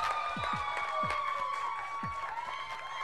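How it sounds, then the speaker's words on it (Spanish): Studio audience at a Spanish-language rap game show applauds and cheers for the orange team, a steady roar of clapping with whoops and high children's shouts rising above it, sustained and lively, with no talk over it. "Y el aplauso para el equipo naranja."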